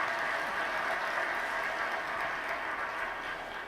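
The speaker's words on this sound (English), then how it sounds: "if you would give them a round of applause" A crowd applauds at a public talk on Muslim American community life in New England: soft, steady clapping from many hands, heard at a distance and tapering slightly toward the end.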